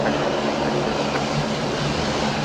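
A Qantas airliner, just in from Sydney, passes at Brisbane Airport with a steady, broad engine roar that holds at a constant level throughout.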